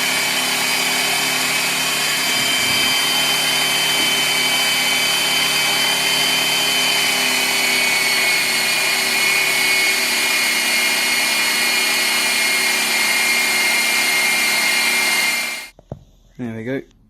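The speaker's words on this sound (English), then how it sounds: "It's just now a case of grinding it down. I've got a nice new belt" A belt grinder fitted with a new belt grinds down a poplar wood knife handle, giving a loud, continuous whine that holds steady for about fifteen seconds before cutting off, followed by brief handling knocks.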